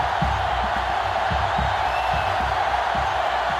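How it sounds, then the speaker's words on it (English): Loud stadium crowd roaring and cheering during a college football video game (NCAA Football 2005), a continuous dense wash of noise with low rhythmic thumps throughout. "And this crowd is going crazy."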